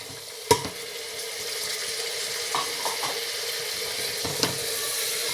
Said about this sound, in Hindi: अब इनको अच्छी तरह भूनेंगे, तब तक भूनेंगे जब टमाटर गल जाए।